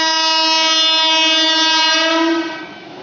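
An Indian local express train's horn blares loud and close in a long sustained tone, fading slightly toward the end with rail rumble beneath.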